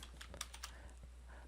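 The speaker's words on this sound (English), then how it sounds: "So again, I'm typing in equals," Quick, light key clicks from typing on a computer keyboard while entering a spreadsheet formula, a short irregular burst of taps close by over a low steady hum, with no talking.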